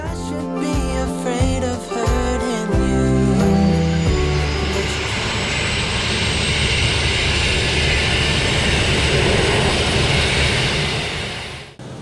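Loud, steady Pilatus turboprop engine roar in flight that builds from sputtering bursts into a continuous drone with a faint high whine, running unbroken until it cuts off at the end.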